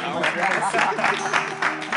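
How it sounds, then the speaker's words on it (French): Audience applause at a live show, a steady wash of clapping from a crowd lasting the whole moment, with a few louder bursts standing out and some voices mixed in underneath. "Applaudissez."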